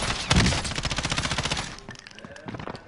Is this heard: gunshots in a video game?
yes